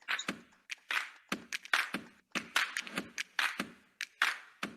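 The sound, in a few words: audience applause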